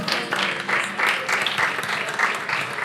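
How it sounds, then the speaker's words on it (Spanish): A church congregation gives an ovation, sustained applause with clustered bursts of clapping at moderate distance and some voices underneath. "Esta ovación es para ti."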